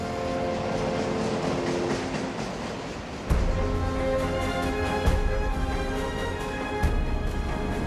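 A city train runs along the rails, a steady rumbling roll with a rising jolt partway through and periodic clacks from the wheels over rail joints, heard alone at moderate loudness.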